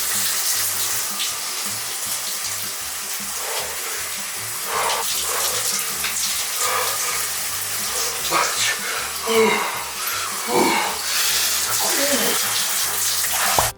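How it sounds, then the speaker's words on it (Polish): Cold water runs steadily from a shower, a continuous close hiss and splash lasting throughout, with some brief louder splashes. "Idę morsować pod prysznic."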